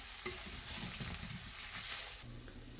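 Ginger, garlic and onion sauté in a hot pan for paksiw bangus with pork belly, giving a close, steady sizzle broken by a few scraping stirs.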